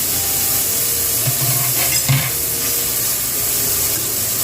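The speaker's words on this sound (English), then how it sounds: "I'm going to take the back of my spoon and just smash these tomatoes like this" Tomatoes get smashed with the back of a spoon in a hot pan while cooking a budget farfalle bowtie pasta meal. A loud, continuous sizzle and hiss runs throughout, broken by a few soft scraping and squishing knocks.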